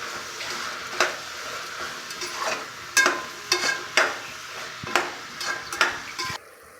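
Tomato bath masala with turmeric frying in a pan, a steady sizzle broken by scattered sharp scrapes and clinks of a spoon stirring against the metal, close and moderately loud with no voices.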